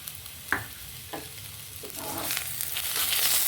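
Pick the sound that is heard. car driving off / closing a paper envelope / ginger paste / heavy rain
ginger paste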